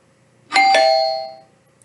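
A doorbell gives a clear two-tone ding-dong that rings out and fades over about a second in an otherwise quiet room.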